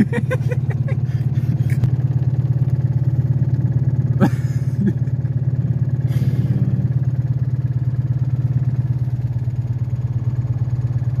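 Two microcar moped cars driving together, a steady, loud, droning small-engine hum that runs without a break from start to end, with one brief sharp click partway through and no talk.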